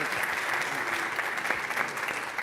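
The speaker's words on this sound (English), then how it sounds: "Round of applause for Kunmi." Steady applause from a live audience at a startup founders event, a dense wash of clapping that holds at an even level throughout.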